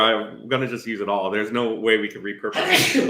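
A person talks steadily, then a short, sharp sneeze bursts out near the end, close and loud.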